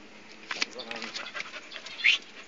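Dog panting and whimpering aboard a boat under repair at sea, with a person talking over it and a sharp high whine near the end.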